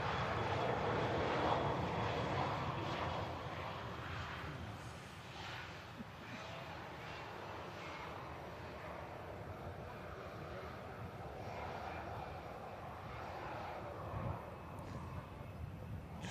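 Loganair Embraer airliner taxiing at an airport, a steady distant engine drone with wind rumble across the microphone, fairly faint and continuous throughout.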